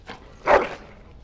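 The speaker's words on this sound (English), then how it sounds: "Bloody dog." A single dog bark in the video game Dragon Age: Origins, one short mid-loud yelp standing alone against quiet game ambience.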